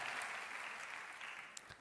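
A church congregation claps loudly together, a dense continuous wash of applause close up that tapers slightly toward the end.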